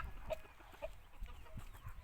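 A Misri rooster gives two or three short, soft clucks at a distance against a quiet outdoor background.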